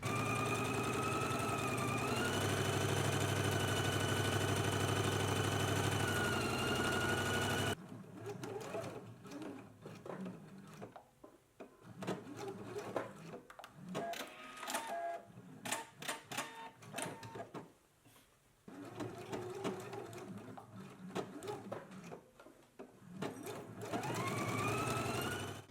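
A sewing machine runs steadily for several seconds while stitching a facing onto a garment front. After that comes quieter handling, with clicks, fabric rustling and short bursts of stitching.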